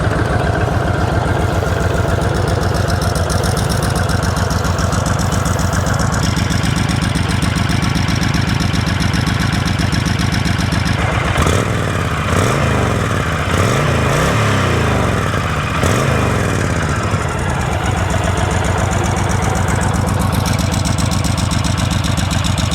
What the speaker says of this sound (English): Now let's listen to the engine and the exhaust pipes.